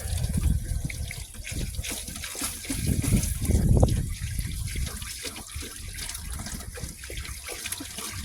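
Steady rushing and splattering water, loud and continuous throughout, with a surge in the middle, as a Buick heater core line is flushed and sprays freely.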